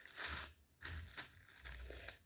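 A plastic bag crinkles and crackles in close bursts as fondant sandwiched inside is pressed flat, three or four rustling presses in quick succession.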